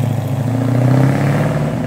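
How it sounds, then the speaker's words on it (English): A genuine 1978 Ford XC Cobra limited edition with a V8 engine cruises along the highway, giving a steady, loud low engine drone with road roar, heard alone with no talk. "This houses a beautiful V8 engine, pushing it along the highway."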